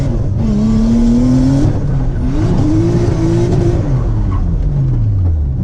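A car accelerates hard in third gear through a long drift arc on a street course. Its engine roars close and loud, the pitch climbing, dipping and climbing again as the revs rise.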